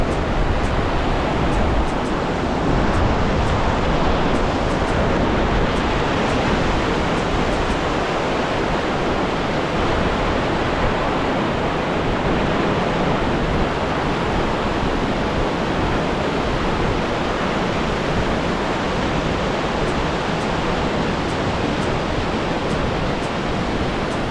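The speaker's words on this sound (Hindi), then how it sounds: "नदी का फ्लो देखिए कितना तेज़ है" Loud, steady rushing of a fast-flowing mountain river on the Gangotri to Gaumukh trek, a continuous broadband roar with no voices.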